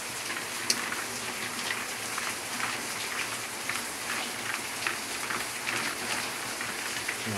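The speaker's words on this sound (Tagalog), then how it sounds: "ang hirap pagka umuulan" Heavy rain pours steadily on a shop, a dense hiss with scattered drops pattering on a nearby surface, continuous and unbroken.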